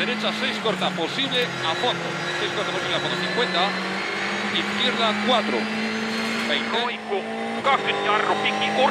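Onboard Jari-Matti Latvala's Volkswagen rally car on a stage of the 2013 Rallye de France Alsace: a loud, close engine roars and rises and falls through gear changes, with a voice talking over it throughout.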